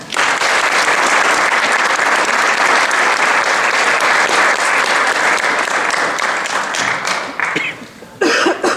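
Sustained audience applause at a leadership society induction ceremony honoring an award recipient, loud and dense for several seconds before thinning out, with a few coughs and brief voices near the end.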